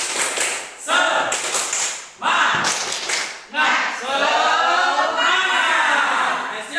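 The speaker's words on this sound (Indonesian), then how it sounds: "Tepuk semangat, semangat" A group at an Indonesian primary school, SDN Watukarung, does the tepuk semangat spirit clap: bursts of rhythmic clapping in sharp groups, with voices chanting along between and over the claps.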